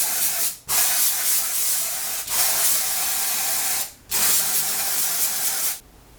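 Halovida dry shampoo sprayed onto hair in three long, steady bursts of broad aerosol hiss, with short silent gaps between them, close and fairly loud, and no voices.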